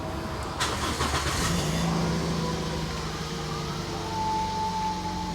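A 2010 Toyota Vios G automatic car engine cranks briefly and starts, settling into a steady idle hum that continues to the end, with no talking.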